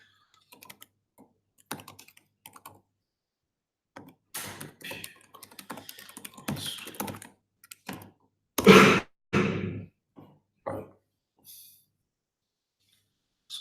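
Irregular bursts of keystrokes on a computer keyboard clatter close by, sparse at first, then a denser flurry with a few heavier thumps and pauses, and no speech.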